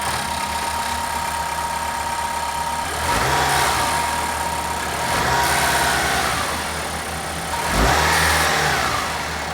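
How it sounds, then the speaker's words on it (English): The inline-four engine of a 2024 Lexus RX 500h runs steadily at idle, then revs up three times in smooth swells, each rising and falling back to a low hum. "let's start up the inline 4 and hear how it sounds"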